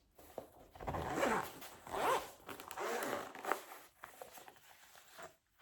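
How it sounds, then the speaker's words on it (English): A zipper on a GoPro Adventure Kit case is pulled open in several short rasping strokes, close and fairly quiet, with pauses between pulls. "there's a zipper on top too here, where you can actually unzip it"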